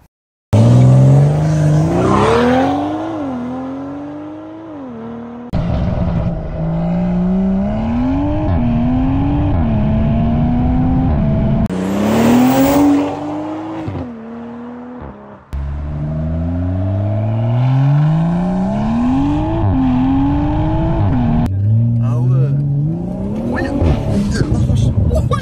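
A BMW 340i with a stage 2 tune revs hard through rising and falling engine sweeps, loud and close, with gear changes, tire squeal and cuts between several bursts of acceleration.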